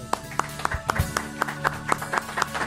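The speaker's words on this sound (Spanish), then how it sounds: "Un aplauso." Scattered claps from a small audience after a Colombian television talk, sharp individual hand claps repeating irregularly about four per second, fairly close, over a faint hum.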